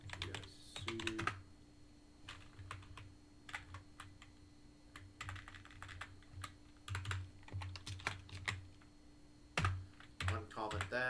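Typing on a computer keyboard while installing Arch Linux, with quick irregular bursts of key clicks close to the mic, a faint voice talking in places and a steady low hum underneath.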